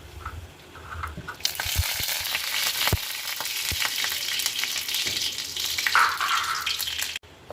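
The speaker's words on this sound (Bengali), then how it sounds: "তারপর কড়াইয়ের মধ্যে সর্ষের তেল, কিছুটা কারি পাতা, কিছুটা চীনাবাদাম দিয়ে" Peanuts and curry leaves frying in mustard oil in a wok, a steady close sizzle and crackle with brief stirring scrapes and clinks, then a short quiet break at the end.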